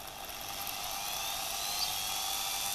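A Vonhaus wood router's motor runs at speed setting 2 with a steady, high-pitched whine and airy hiss. The tone is constant, with no talk, throughout the short stretch.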